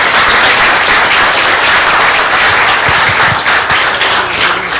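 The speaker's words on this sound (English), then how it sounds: "Let's give them a great round of applause" A loud, continuous round of applause fills a city council meeting room in Atwater as family members are called up. Many hands clap close and strong throughout, with no pause.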